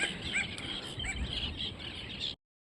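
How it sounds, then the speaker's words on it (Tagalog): Many birds circling over a large rock in the middle of the sea chirp and call intermittently at moderate distance, short bright notes scattered over a soft background hiss. "Ayun yung mga ibon. Nagpaikot-ikot na dito sa amin."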